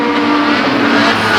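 Outlaw Midget race cars roar past at Flamboro Speedway, a loud, sustained engine drone close by with steady high-revving pitch and no break in the noise.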